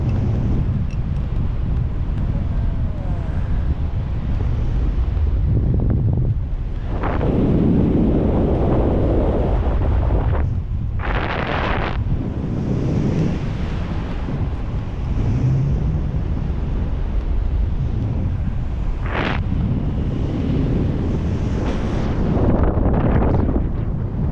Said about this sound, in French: le vent augmente tout le temps